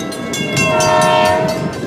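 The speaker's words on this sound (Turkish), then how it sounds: "Tren rayda gider ve böyle ses çıkarır." A train rumbles along the rails with rhythmic clatter while a sustained horn blares through the middle, loud and close.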